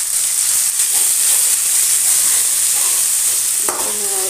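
Cumin seeds dropped into hot mustard oil, crackling and hissing in a loud, dense, continuous sizzle heard up close, with a brief sharper flare near the end.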